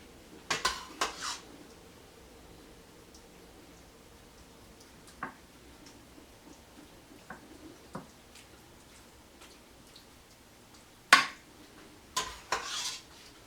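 Spoon clinking against a pot while meat sauce for baked ziti is scooped and stirred, scattered sharp metallic knocks and scrapes with quiet gaps between, close and fairly soft.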